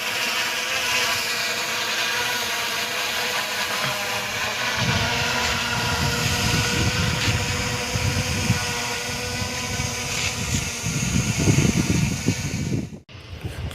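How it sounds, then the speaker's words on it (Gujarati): A Dynalog drone climbs overhead and holds its position, a steady buzzing propeller whine with a fairly constant, moderately loud drone and no voices, ending in a brief dropout. "ડ્રોનને આપણે ઉપર મોકલીશું"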